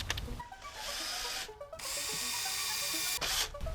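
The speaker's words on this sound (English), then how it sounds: "Now I'll drill the first hole." A power drill bores a hole while mounting horns on a bike, whirring steadily for a few seconds in short bursts with brief pauses, close and fairly loud.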